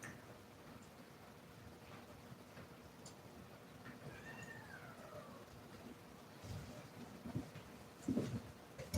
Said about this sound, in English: That was an interesting meow.